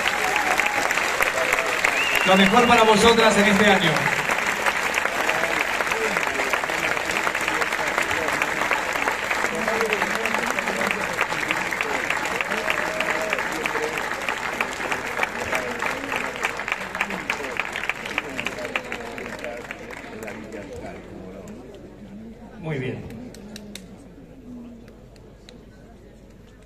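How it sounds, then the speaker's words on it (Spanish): A crowd at the Lerma town festival proclamation applauds the festival ladies of 2022, loud sustained clapping that slowly thins and fades out, with a presenter speaking over it. "Fuerte el aplauso, chicas."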